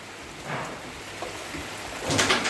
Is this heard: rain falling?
yes